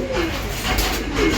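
Pigeons in a loft coo loudly and close by in a short, rolling call, with the birds filling the space with steady murmuring.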